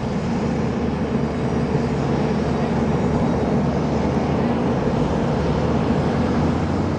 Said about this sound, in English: Jet planes come and go